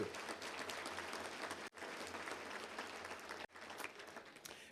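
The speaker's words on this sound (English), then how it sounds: "Let's give Jerry Jones Jr. a round of applause as well, too." A luncheon audience at a touchdown club claps in sustained, dense applause, with two brief dips in the clapping before it surges again; no speech over it.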